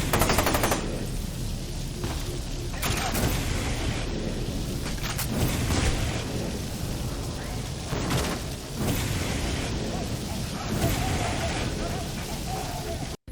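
A fire-shooting gun firing in the video game FEAR 2: a sustained roaring, crackling blast of flame with repeated heavy bursts and booms throughout, loud and continuous, with a voice heard alongside.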